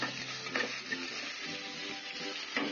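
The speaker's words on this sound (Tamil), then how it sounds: "கொஞ்சம் வதங்கட்டும்." Ingredients sizzle and crackle in a hot pan as they are sautéed for coconut milk rice, with occasional stirring scrapes over a steady frying hiss, close and continuous.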